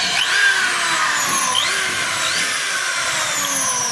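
A DeWalt 3/8 inch corded drill runs steadily after being plugged in, its high motor whine continuous and close, with slight pitch wavers and no talk.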